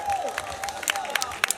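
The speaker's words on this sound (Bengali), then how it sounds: "সবাই জোরে সোরে হাততালি।" An audience at a Victory Day celebration for the SASEC DS-04 project breaks into scattered applause with cheering voices, claps popping irregularly under a crowd murmur.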